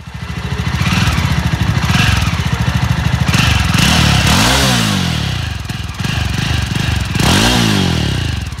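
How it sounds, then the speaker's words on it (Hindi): A Jawa 42 motorcycle engine thrums loudly and close by, a steady pulsing exhaust with a few throttle blips that rise and fall in pitch. "मैं आपको इसका एक बार एग्जॉस्ट साउंड भी सुना देता हूँ कि इसका एग्जॉस्ट साउंड कैसा है"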